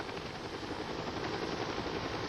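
A helicopter carries a critically injured boy to a children's hospital, its steady dense rotor chop and turbine roar filling the air evenly throughout, loud and continuous with no voices.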